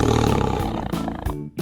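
A loud tiger roar from an animal sliding game in 3D, a single sustained growl that fills the moment and then trails off abruptly.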